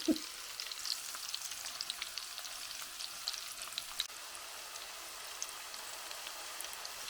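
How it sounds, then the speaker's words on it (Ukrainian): Steady low sizzling and crackling of meat patties frying in a pan over low heat, with small pops scattered throughout and no voices. "я смажу на маленькому вогні"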